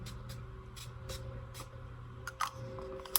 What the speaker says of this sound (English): I go in with my Wet n Wild matte finishing setting spray